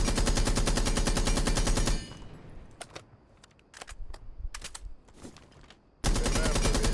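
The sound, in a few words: Blackbeard's gun firing with compensator in video game Rainbow Six Siege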